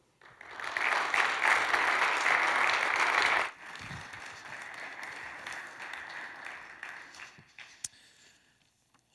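Audience applause welcoming Dr. Josh Moody to the podium, a dense burst of clapping that fades to scattered, thinner claps before dying away, with faint voices.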